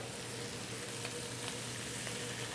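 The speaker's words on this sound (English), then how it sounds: "And just keep on stir frying." Steady sizzling and crackling of Singaporean chili crab stir-frying with tomato sauce in a hot wok, with faint stirring scrapes, continuous and close.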